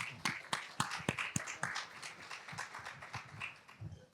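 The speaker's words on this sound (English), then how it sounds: "Let's give Diani a round of applause for making it back in one piece." A live panel audience at a tech talk claps for a returning panelist, a short burst of scattered, uneven hand claps in a room, moderately loud, fading a little over a few seconds with no talk over it.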